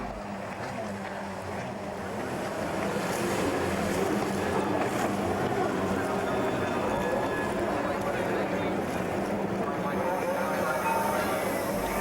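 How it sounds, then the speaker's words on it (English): Jet skis racing on the river basin at Dunstan Staithes during water sports at the 1990 National Garden Festival, a steady rushing engine and water wash heard under a narrating voice. "Here regular water sports were held, on this occasion jet ski racing."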